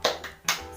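A short, rhythmic clapping chant in a classroom: three crisp hand claps in quick succession, close and fairly loud, with no voices over them.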